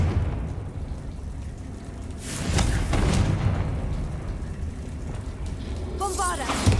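Spell blast from Confringo in Hogwarts Legacy: a broad fiery burst about two seconds in, with a rumbling tail, set over steady game ambience and a later shimmering magical flourish.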